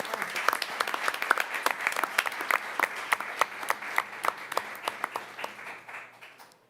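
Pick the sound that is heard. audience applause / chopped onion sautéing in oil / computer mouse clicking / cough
audience applause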